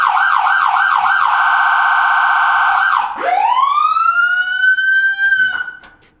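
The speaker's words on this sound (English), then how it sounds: "We can do the siren too." A fire truck siren wails loud and close, cycling rapidly up and down in pitch before sliding into a long rising howl that peaks, holds briefly, then winds down and fades.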